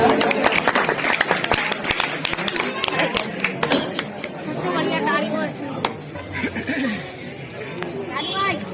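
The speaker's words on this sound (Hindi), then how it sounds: "आपका जोरदार तालियों से स्वागत किया जाए।" Applause from an audience welcoming a guest at a prize distribution event in Bareilly, Uttar Pradesh, with dense clapping and crowd chatter under a voice on a microphone, carrying through the whole stretch.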